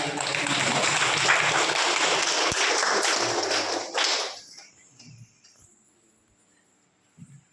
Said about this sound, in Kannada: ಶಶಿಕಲಾ ಮೇಡಮ್ ಅವ್ರಿಗೆ ಗಟ್ಟಿಯಾದ ಚಪ್ಪಾಳೆ